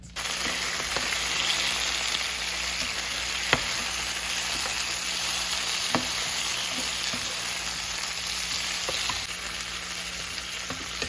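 Ground beef frying in a pan for burritos: a dense, continuous sizzle holding steady throughout, with a few soft clicks of a utensil, close and fairly loud, no voices.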